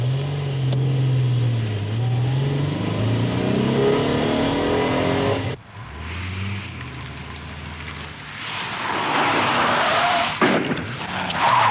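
A 1983 car on a wet track engine revs and shifts through rising and falling pitch, then a sharp break as the handbrake turn swings it round, followed by tyre spray and hissing water.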